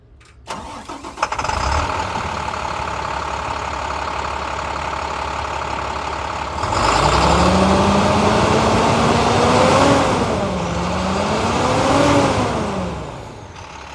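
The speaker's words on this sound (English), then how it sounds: "I'm going to hop in this truck. I'm going to start it up" A 2008 International 7300 diesel truck cranks briefly and fires up, settling into a loud, steady close-up idle with rising and falling engine tones, then tapering off near the end.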